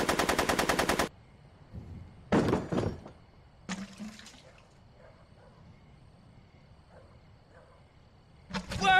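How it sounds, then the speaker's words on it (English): Rapid machine-gun bursts ring out in the Back to the Future video game, with a loud sustained volley at the start, shorter bursts a little later and another at the end, quiet gaps between them. "Are you shooting at me?"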